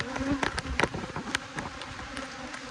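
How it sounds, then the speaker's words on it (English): A close, dense buzzing of agitated honey bees robbing during the fall honey flow, with sharp passing flybys and crackly wing noise, irregular and busy throughout. "when those bees get mad, your first reaction is run away"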